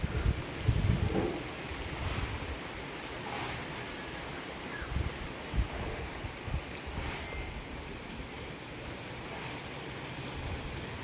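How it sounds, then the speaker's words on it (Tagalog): Steady outdoor wind buffets the microphone with low rumbling gusts and a soft rushing background, fairly faint, with no voices. "Masarap ang hangin dito sa labas"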